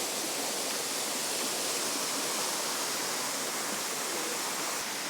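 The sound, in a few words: small waterfall flowing fast on way to Coal Creek Falls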